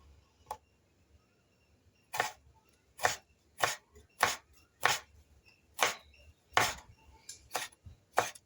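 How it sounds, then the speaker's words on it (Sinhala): A knife finely chops tomatoes for a tomato sambol on a cutting board, about a dozen sharp, crisp thuds arriving in an uneven rhythm, close and distinct against near silence. "අපි දැන් මේ විදිහට තක්කාලි ගෙඩිය අරන් සිහින්ව කපා ගන්න ඕනේ"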